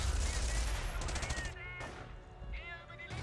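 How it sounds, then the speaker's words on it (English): A light tank fires canister shot in a video game, a burst of rapid crackling gunfire that fades out, followed by a couple of further sharp shots. "Doing a canister shot, shredding my grenadiers."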